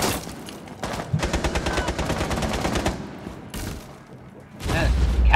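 Rapid automatic gunfire from Rainbow Six Siege rattles in a long burst, followed by further shots after a short lull, with players talking over the action.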